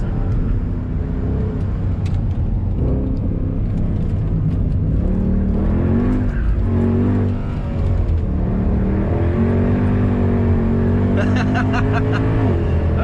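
A Mercedes W204 C63 AMG on the Nordschleife roars loudly from inside the cabin, the V8 note climbing through gears then easing under braking before pulling again, with someone talking over it.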